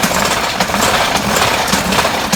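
A Casabella spin mop whirls dry inside its bucket's spinning cylinder, a continuous, loud, rattling whir held steady and close throughout, with no talk.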